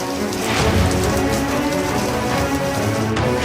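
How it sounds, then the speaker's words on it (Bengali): Heavy rain lashes down with stormy wind in Kolkata, a loud, dense, continuous roar of downpour that holds steady throughout with no voices. "তারপরেই নামলো ঝমঝমিয়ে বৃষ্টির সঙ্গে ঝোড়ো হাওয়া"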